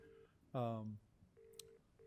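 Telephone dialing tones sound as a call is placed to a board member during a board meeting: a short steady tone, a louder voice-like burst, then further dialing beeps at moderate volume.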